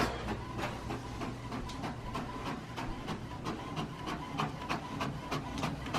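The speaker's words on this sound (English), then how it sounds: "So as you can see, it's printing on the other side" An office printer runs a tract through for printing on the reverse side, giving a continuous mechanical whir punctuated by rapid, regular clicking and ticking from the paper feed, close and steady throughout.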